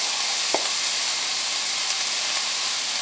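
A seasoned red snapper dish with red curry and coconut simmering in a pan, giving a steady, even sizzling hiss with one brief clink near the start, no talk.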